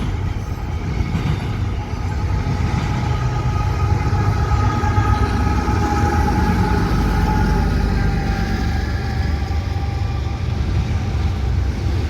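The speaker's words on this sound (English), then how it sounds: "just saw a pair of westbound intermodal trains" A westbound intermodal freight train rolls past close by, a steady, continuous rumble and clatter of rail cars with faint squeal tones running throughout, no talking.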